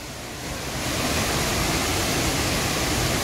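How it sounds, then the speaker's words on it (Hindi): The Bheemlat waterfall in Bundi pours down in a steady, dense roar of falling water, loud and close, building slightly at the start and then holding constant without any talk. "ऊपर से बह रहा है झरना"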